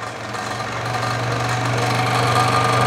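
A Mollar BSS501V variable speed scroll saw running at high speed with noticeable vibration, a steady low buzzing hum with a rising whirring tone, continuous and close, no talking.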